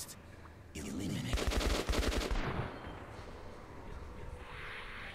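AK rifle gunfire in the video game Metro 2033 Redux: a rapid automatic burst of roughly two seconds, loud and dense, then fading into a quieter ambient rumble.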